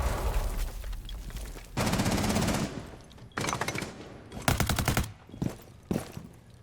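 Rapid automatic gunfire in Rainbow Six Siege, several loud sustained bursts of pre-firing separated by brief pauses, ending with shorter clipped volleys.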